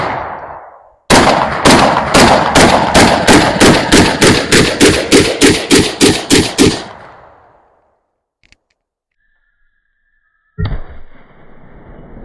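Gunfire aimed at a water heater: a rapid, loud string of about fifteen evenly spaced shots that trails off into silence, with a faint tick and a sharper report arriving a few seconds later.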